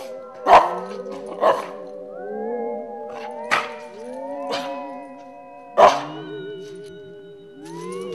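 A small dog gives several sharp, loud barks spaced irregularly, with whining, yelping tones sliding between them and no other sounds.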